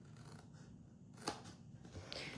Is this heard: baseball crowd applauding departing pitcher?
no